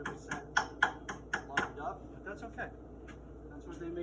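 A small hammer taps a cotter pin into an outer tie rod on a 1995 Pontiac Trans Am, about seven sharp metallic strikes in quick succession, then a few softer taps, close and alone with faint background noise.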